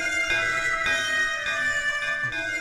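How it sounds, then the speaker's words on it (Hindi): A bell rings in repeated strokes roughly every half second, its bright metallic overtones ringing on between hits, close and loud with nothing else over it. "वो घंटी बजा रही है"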